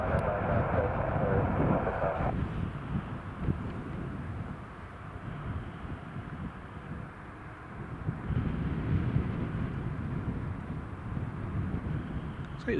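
A plane landing at Newcastle Airport during Storm Ashley, its engine roar steady and fairly loud across the whole stretch, mixed with heavy wind buffeting the microphone.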